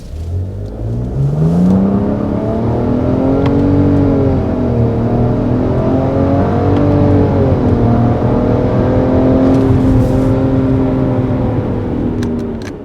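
A 2024 Nissan Rogue's three-cylinder engine revs steadily through its CVT, a smooth rising and falling drone with clear harmonic tones, loud and close, holding for several seconds with no talking over it.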